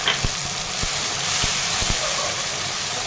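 A ginger, garlic and onion paste fries in hot oil for chole masala, giving a steady close sizzle broken by a few soft knocks of a stirring spoon. Nobody speaks.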